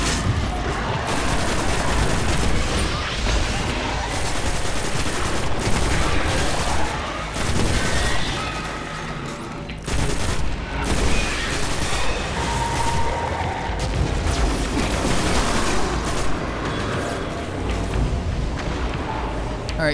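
Sustained in-game gunfire and explosive booms from Destiny, dense and continuous for the whole stretch, with a player talking over the shooting.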